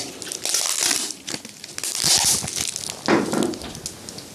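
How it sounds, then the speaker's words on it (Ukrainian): Adhesive tape is wound around a hand, sticky side out, making close crinkling, crackling and peeling rustles that swell and fade over a few seconds. "Ще один спосіб скотчем. Наматуємо його на руку, стороною склеєм."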